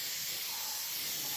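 White spray paint hisses in one steady, continuous stream onto the metal body of a washing machine, close and unbroken, with no talking.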